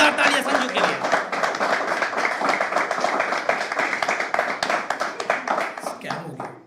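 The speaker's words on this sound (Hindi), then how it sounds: "एक बार प्लीज जोरदार तालियां संजू के लिए।" A poetry event audience breaks into steady, loud applause for a poet, dense clapping filling the room for several seconds before tapering off at the end, with a voice speaking over it.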